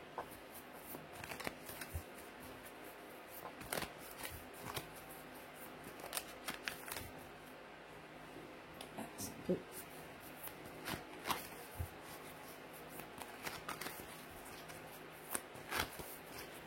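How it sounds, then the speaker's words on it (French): Oracle cards from the Oracle des Murmures deck are shuffled by hand before one is drawn, giving soft, close papery riffles and rustling bursts at a low, quiet level. "nous allons commencer par tirer une carte d'énergie générale avec l'oracle des murmures"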